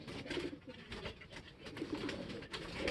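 A racing pigeon coos in a loft, soft repeated low throaty calls rising and falling in gentle pulses, fairly near and alone without speech.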